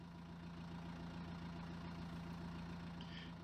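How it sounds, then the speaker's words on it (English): A tractor engine runs steadily while pulling a platform-type tree planter on a farm, a constant low idling rumble with a mechanical drone that holds level throughout without any voices. "It's pulled along by a tractor, and it's very easy to plant a large potted plant with this tree planter."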